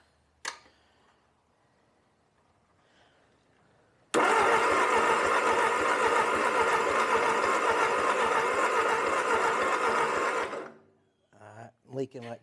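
A $500 Ford 8N tractor engine that later leaks heavily: after a quiet lead-in with a sharp click, it bursts into a loud, rough, steady running roar for about six seconds, then cuts out, leaving short scattered sounds at the end.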